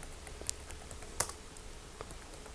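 A password is typed on a computer keyboard in a quiet room as a handful of soft, irregular key clicks, with one or two slightly louder presses, faint against a low background hiss.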